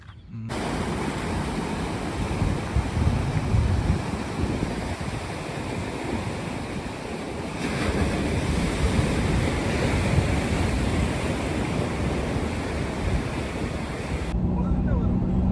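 Waves of the Bay of Bengal break and wash steadily on the shore beside a fort, a continuous loud surf roar with wind buffeting the microphone throughout.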